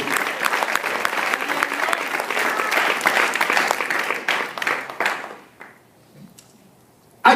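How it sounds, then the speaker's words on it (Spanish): A church congregation breaks into loud, dense applause for the Lord during a sermon. It keeps a full roar for about five seconds, then thins out and stops, leaving near silence and a brief sound at the very end. "Si le va a dar un aplauso al Señor"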